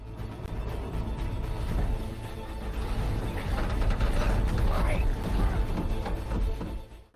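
T-34-85 tank turret turned by its manual hand crank, a continuous grinding clatter of gears and ratcheting mechanism running steadily throughout, with a voice speaking over it.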